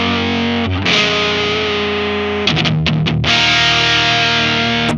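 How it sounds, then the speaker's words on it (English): Distorted electric guitar with the treble rolled down to about 40 percent, giving a darker, thick tone; sustained chords ring out, then a few choppy stabs before another long held chord, loud and alone. "So now we're getting into like a darker sound, but it kind of works for this guitar."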